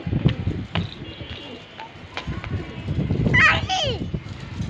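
Archangel pigeons resting in the sun give a soft coo among household sounds, with children's voices and scattered chirps nearby, the coo rising briefly near the end.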